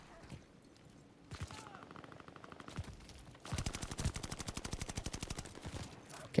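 Rapid automatic gunfire in a Call of Duty match, a fast even burst of shots kicking in mid-clip after a few scattered single shots, loud and close with no talking over it.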